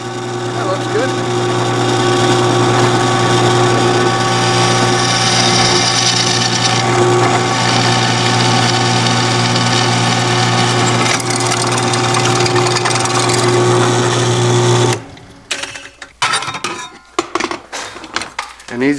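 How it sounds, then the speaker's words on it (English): A power drill bores a hole through the metal roof of a camper van, producing a loud, steady whining drone for about fifteen seconds before it cuts off, followed by a few scattered clattering knocks. "clamp it down, turning it on, and drilling through."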